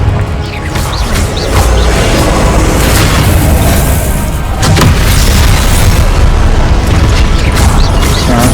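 Confringo fire spells explode in Hogwarts Legacy during combat, a loud run of booming blasts and crackling bursts layered over dense game effects.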